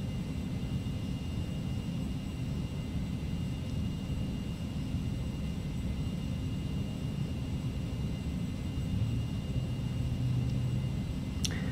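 A Carenado Citation CJ2 business jet climbs after takeoff at night in the Prepar3D flight simulator, giving a steady, subdued engine rumble and hiss that continues evenly with no voices.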